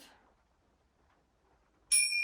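A single bright bell or chime rings out clearly near the end of a quiet yin yoga class, ringing on after the strike.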